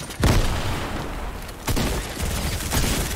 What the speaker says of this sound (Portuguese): Um tiro.